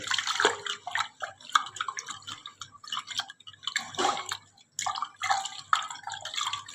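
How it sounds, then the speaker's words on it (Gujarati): Rice and lentils for mori khichdi stirred in water with turmeric and salt, giving soft wet sloshing and dripping splashes in irregular bursts, close by and moderately loud, with no talking. "આ રીતે આપણે હલાવીને એને બરાબર મિક્સ કરી દઈશું"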